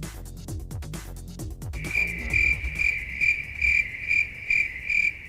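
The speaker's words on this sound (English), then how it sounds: "And your crickets were way worse than my joke." A cricket-chirp sound effect comes in after a few seconds of rustling and knocks, a steady chirping in regular pulses, loud and close, with no talking.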